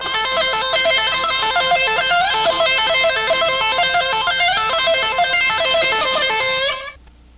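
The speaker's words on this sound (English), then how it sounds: "I'm hammering with the pick, so it sounds like this." An electric guitar solo played with a hammering technique using the pick, a fast, continuous run of bright, quickly shifting notes for about seven seconds before cutting off, loud and alone.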